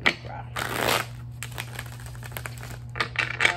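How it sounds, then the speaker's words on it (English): Playing cards riffled and shuffled close by, a crisp papery flutter in several bursts with brief pauses between. "One more shuffle."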